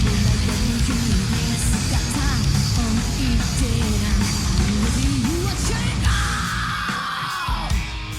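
A female singer screams and yells over dense, loud distorted guitars and drums in a live performance, the harsh vocal sustained throughout before a bright high guitar line takes over near the end.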